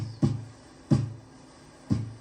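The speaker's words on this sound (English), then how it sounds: "So here's the real snare with the brush and the hits." Three soft, brushed snare hits about a second apart, each a quick swish with a muted drum body, played alone at low volume.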